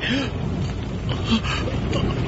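Rain effect in an Indonesian radio drama: a steady wash of falling rain plays throughout the short passage, with faint tonal traces suggesting a voice or effects layered beneath it.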